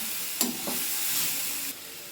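Carrot halwa frying in ghee in a pan while being stirred, a steady soft sizzle with a couple of brief scraping stirs, close and alone.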